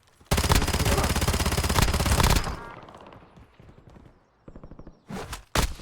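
Rapid automatic gunfire from the video game Warzone rattles loudly for about two seconds, then fades, followed by a few shorter close bursts near the end.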